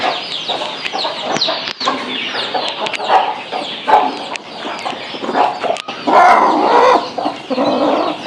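Country chickens cluck steadily at a poultry farm in Tharapuram, a busy flock of close, overlapping calls filling the whole stretch, with occasional louder squawks and a brief rooster-like cry.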